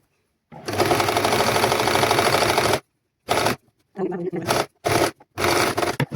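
Tailoring-class sewing machine stitching folded fabric: one long, loud, steady whirring run, then a string of short stop-start bursts close by.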